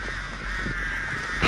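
Crows cawing inside the Dead by Daylight horror game, a short loud burst of harsh calls over a dense, steady game ambience.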